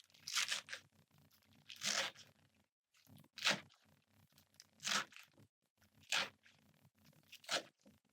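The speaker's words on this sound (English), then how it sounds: "Now we're going to chop up the romaine lettuce." Romaine lettuce is chopped with a knife, about six crisp crunching cuts spaced a second or so apart, close and clear against a quiet background.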